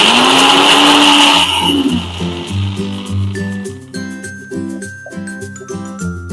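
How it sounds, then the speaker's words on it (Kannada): A mixer grinder whirs loudly for about a second and a half, coarsely grinding soaked chana dal, its pitch sliding down as it stops, then music takes over. "ಮಿಕ್ಸಿ ಹಾಕೊಂಡ್ಬಿಡೋಣ."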